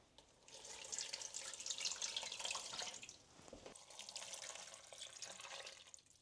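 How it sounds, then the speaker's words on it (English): Water runs steadily into a pot of chicken soup ingredients, a broad rushing splash that swells and dips briefly midway before continuing, fairly close. "I'm going to cover this with just enough water to submerge everything."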